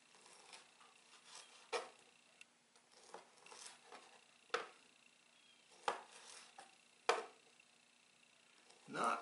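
A short-bladed paring knife with a large handle makes quiet, separate cutting clicks and scrapes at irregular intervals, with soft talk in between.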